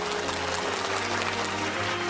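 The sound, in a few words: applause for the singing contest winners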